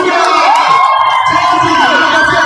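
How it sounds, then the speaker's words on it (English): A basketball crowd in Nyayo Gymnasium roars loudly after a dunk, a dense sustained cheer with shouts and a whistle-like whoop rising over the noise. "The crowd participates on the dunks."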